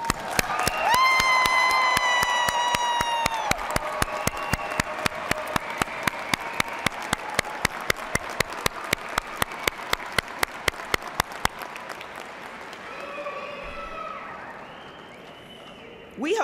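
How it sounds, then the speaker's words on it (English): A commencement crowd at Eastern Kentucky University applauds and cheers the new College of Health Sciences graduates, sustained loud clapping with whoops and shouts, joined by sharp rhythmic beats, tapering off near the end. "let us recognize with a hearty round of applause Eastern Kentucky University's newest graduates of the College of Health Sciences"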